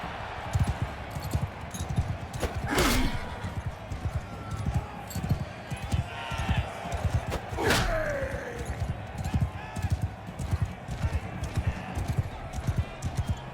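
Horse hooves clip-clop at a steady walking rhythm in the medieval combat game Bannerlord, a continuous patter with a couple of louder clanks and someone talking briefly over it.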